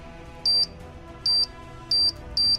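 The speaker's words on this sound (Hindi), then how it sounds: "बटन दबाते ही रोबोट में टाइमर स्टार्ट हो जाता है।" A cartoon robot's timer starts with a series of four short, high electronic beeps spaced evenly apart, clear and close over a faint background hum.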